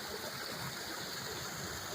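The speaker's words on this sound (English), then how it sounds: "Here's the waterfall." Small waterfall and stream near a bridge, a soft, steady rushing and trickling of water heard faintly and alone.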